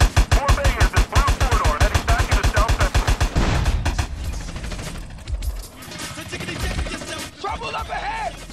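Rapid bursts of gunfire from a GTA San Andreas gang shootout mission, loud and sharply repeated for several seconds before tapering into scattered shots, with voices shouting over the action.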